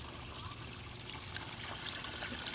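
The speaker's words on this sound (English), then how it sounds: "a beautiful flowing water fountain as well" Water fountain flowing in a botanic garden water feature among aquatic plants, a continuous trickling and splashing stream, close and steady, with no talk over it.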